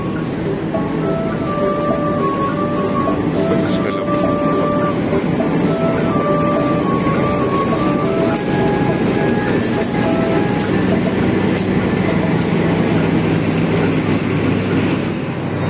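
A passenger train, the Pangunkarta service from Jombang to Pasar Senen, rumbles steadily into a station while drawn-out tonal squeals and hums rise and fall, a continuous rolling rail sound without talk.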